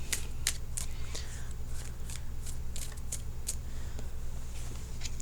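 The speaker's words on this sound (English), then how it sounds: "I'm going to shuffle for just a few seconds more" Tarot cards are shuffled in rapid, crisp riffling bursts, close and steady throughout, with a low hum underneath.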